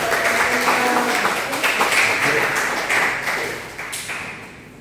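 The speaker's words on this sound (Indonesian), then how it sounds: "Tepuk tangan dulu." A church congregation claps together in a quick burst of many hands that thins out and fades over several seconds, with a faint voice in the background.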